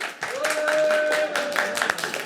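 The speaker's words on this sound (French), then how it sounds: "Mesdames et messieurs, un applaudissement pour Louis." Game-show audience applause for a contestant, a dense wash of clapping swelling and holding across a couple of seconds while a voice talks over it.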